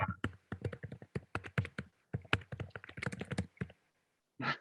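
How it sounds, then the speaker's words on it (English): Rapid, irregular computer keyboard typing clatters through a Zoom call, keys tapped in quick bursts with brief pauses, fairly close and clear, then a short burst of another sound at the very end. "we could hear his keyboard very well"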